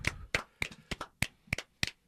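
A few people clap in a small room, a short run of about eight sharp, separate hand claps at an uneven pace, close and crisp with no voices.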